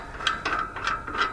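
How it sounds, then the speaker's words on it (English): A hand ratchet loosens a bolt on a Woodland Pro TC810 wood chipper, giving four quick, close, crisp clicking strokes in an even rhythm. "So I loosened the bolt off just so we can get into this thing quick."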